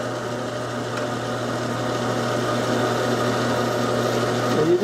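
A lathe spinning at a steady speed while turning spoke wheels for model cars, giving a continuous, even motor whine and hum that rises slightly at the end.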